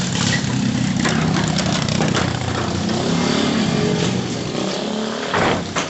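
Motorcycle fitted with a turbo whistle, engine running steadily and loud at close range, a continuous rough drone with a slight rise in revs near the end.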